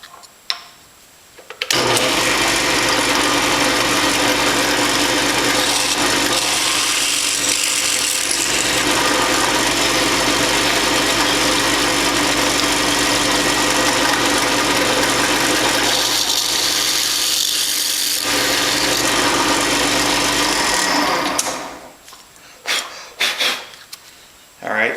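A power drill fitted with a number 13 bit runs steadily on a metal Z bracket for an RV-7 wing tank, a loud continuous whine of about twenty seconds with a brief dip partway through.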